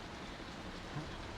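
Heavy rain pours down during an outdoor sit-in by landholders near the Sembo CRPF camp in Nagri, a steady, even hiss of falling water filling the whole short stretch at low volume with no voices.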